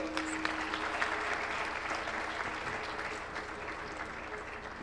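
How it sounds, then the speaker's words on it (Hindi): Audience at a formal Hindi discussion program applauding to welcome a guest, steady moderate clapping from a crowd that holds evenly and fades slightly toward the end. "मेरा सभी से निवेदन है कि नुपुर जी के लिए सभी तालियां बजाकर उनका स्वागत करें."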